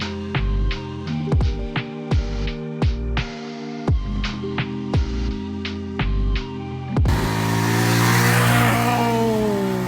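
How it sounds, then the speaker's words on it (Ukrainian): A motorcycle engine revs hard in repeated short bursts, bouncing off the limiter, then settles into a sustained loud roar with rising pitch. "просто відсічку дав на тому мотоциклі."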